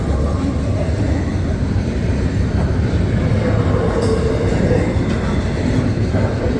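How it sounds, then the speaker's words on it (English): A CSX or Norfolk Southern freight train rolls past close by, a loud continuous rumble with rhythmic clatter of wheels over the rails and a brief metallic squeal. "This is our last train of the day."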